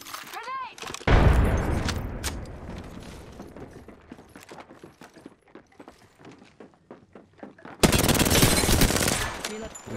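Gunfire in an Apex Legends match: rapid bursts of automatic weapon fire rattle close and loud, with single sharp shots and mechanical clicks between, opening and closing with dense, heavy volleys.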